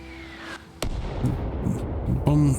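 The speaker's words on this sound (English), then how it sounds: "we should have rounds landing on target in this unfinished village here very" Mortar rounds land on an unfinished village in the military game Arma Reforger, with a sharp nearby blast followed by a few lighter bursts and rumbling under a low voice.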